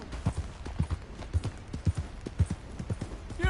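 Horse hooves in Red Dead Redemption 2 clip-clop in a steady, close, moderately loud rhythm, with a brief voice at the very end.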